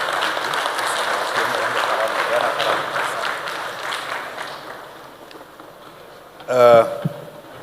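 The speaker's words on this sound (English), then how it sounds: "If you can be upstanding and clap for him, it will be good." An audience at a savings cooperative society's annual general meeting stands and claps for the chief guest. The applause is steady and fairly loud for several seconds, then fades out, and a brief loud knock or thump follows near the end.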